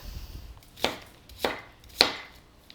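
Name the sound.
knife chopping tomatillos for hot sauce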